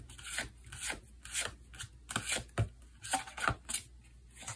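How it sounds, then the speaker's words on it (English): Tarot cards being shuffled by hand, a run of soft riffling rubs and brisk flicks repeating in short bursts, close and fairly quiet with no voice. "I feel like the cards really want to be really shuffled."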